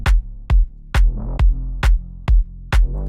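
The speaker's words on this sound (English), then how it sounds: "medium duck with the kick and snare sounds like this" Punchy kick and snare hits in a steady EDM pattern, each one ducking a sustained backing sound under medium sidechain compression, so the mix audibly pumps around every beat. No speech.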